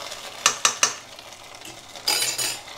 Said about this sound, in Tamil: இப்போ பொங்கலில் அப்படியே தாளித்து கொட்டிடுங்க